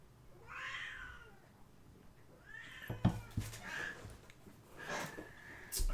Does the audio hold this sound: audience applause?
no